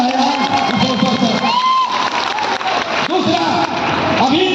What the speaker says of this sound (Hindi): इसलिए जोरदार ताली मिलता है आज इस अवसर पर